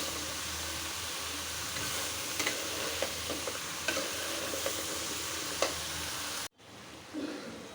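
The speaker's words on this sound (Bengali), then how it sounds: "এখন কষায় নিব।" Mixed vegetables and spice paste stir-fry in a pan for a spicy dried-fish curry. A soft, steady sizzle is punctuated by spoon scrapes and stirring knocks, then cuts off abruptly near the end.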